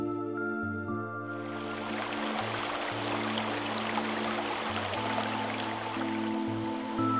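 A mountain river rushes through a rocky ravine near Knyazhpil, its clear water setting up a steady, full broadband roar that swells in after about a second and holds over a low tonal drone.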